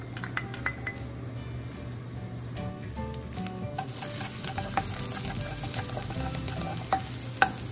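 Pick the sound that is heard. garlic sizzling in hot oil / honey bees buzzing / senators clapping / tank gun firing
garlic sizzling in hot oil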